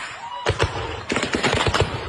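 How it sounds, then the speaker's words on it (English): Gunfire in an attack on a house in Nigeria after a church service: a rapid series of sharp, loud shots in two close bursts, crackling over a noisy background. "every gunshot you're hearing is hitting a person"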